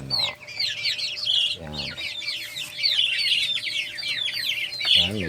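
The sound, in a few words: three-week-old ducklings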